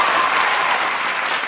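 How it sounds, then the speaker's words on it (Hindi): A crowd applauds loudly and steadily at a comedy shayari (poetry) gathering, a dense continuous clapping that holds for the whole short stretch without easing. "एक मन पर जोरदार ताली बजा दो"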